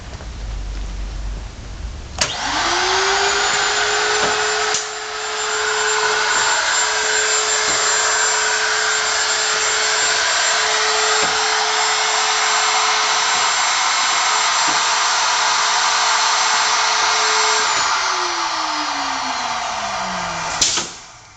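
A mortiser cuts a latch mortise in a door clamped under a template: a loud, steady motor whine with a high droning tone spins up sharply, runs evenly for about eighteen seconds, then winds down.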